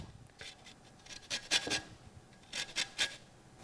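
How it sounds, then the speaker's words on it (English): Lime rubbed against a zester, giving short bursts of close, dry scraping in uneven strokes, louder passes in the middle and near the end, with no talk. "we're going to get a little bit of zest out of it."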